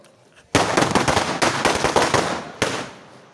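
Tihar firecrackers burst in a loud, dense string of cracks and pops lasting about two seconds, followed by a final sharp bang and a fading crackle.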